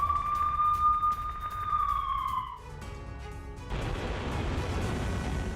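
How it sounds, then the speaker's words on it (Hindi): An air raid siren in a Ukrainian city holds one steady wailing tone, then winds down and fades after a few seconds, leaving a dull background rumble. "यूक्रेन में कई शहरों में सुनाई दे रहे हैं एयर सायरन।"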